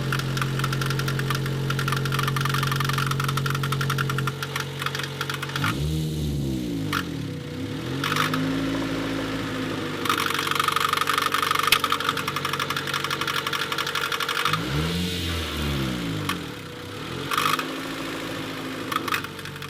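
A Honda Civic engine idles with a loud, irregular knocking noise, near and rough, while the idle note swings up and down in slow recurring waves over the steady running rumble.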